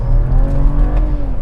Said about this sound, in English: I'm going to roll the power on for the first time with this new map at E25.